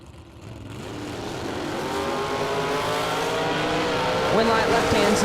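A drag racing car accelerates at a drag strip, a loud rising engine roar that builds steadily and holds near, with a tire squeal or sharp rev at the end and a public-address announcer talking over it.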